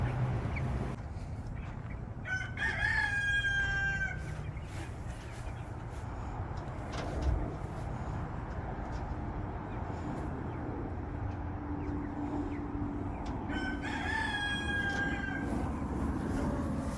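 Chickens in a coop give bursts of crowing and squawking calls at the start and again near the end, over a constant low whir of a fan and faint background murmur.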